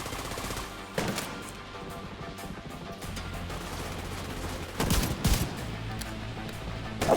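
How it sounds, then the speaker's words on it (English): A sniper turret fires sharp, separated shots in The Division 2 amid a steady rattle of other gunfire, with loud cracks spaced a few seconds apart. "That's like a sniper turret."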